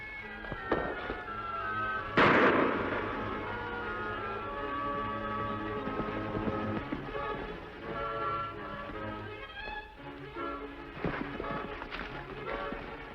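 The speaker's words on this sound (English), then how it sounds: "Shots came from this direction." Gunshots in a classic western radio drama: a sharp loud crack stands out against dense music and effects, with other thumps scattered through the scene.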